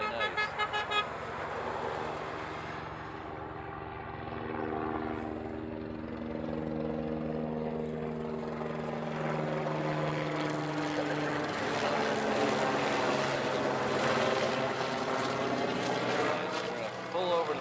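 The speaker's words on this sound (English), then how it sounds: "The other Dreamliner." Boeing 787 Dreamliner airliner at Honolulu airport, a rising, swelling jet roar that grows louder and fuller as it passes, with people talking faintly underneath.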